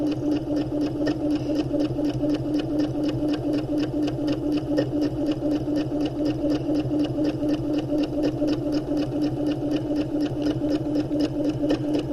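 A sewing machine stitching a seam, starting with a back stitch and running forward: an even, fast mechanical chatter with a regular needle rhythm, close and continuous for the whole stretch.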